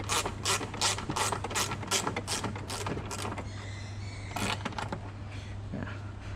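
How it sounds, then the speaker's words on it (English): Hand ratchet loosening a 10mm nut in a cramped spot while fitting an electric frunk to a Tesla Model X, with steady rapid clicking of the pawl in repeated bursts close by and a low hum beneath. "This place is a little bit tight for electrical tool, so I use the manual tool here."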